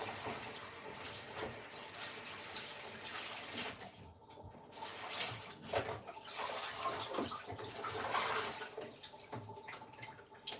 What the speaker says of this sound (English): Nice wash before I start putting them in on the stove.